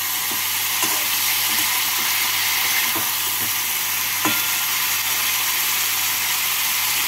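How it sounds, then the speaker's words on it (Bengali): Already-fried bitter gourd is tossed into a pan of fried ridge gourd for jhinge shukto and stirred, giving a steady close sizzle with occasional spatula scrapes and clicks against the pan. "করলাগুলোকে দিয়ে নেড়ে নেব।"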